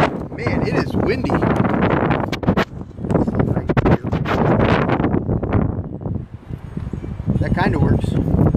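Strong gusty wind in Stillwater, Oklahoma buffets the microphone in loud, rumbling surges, with a person talking over it.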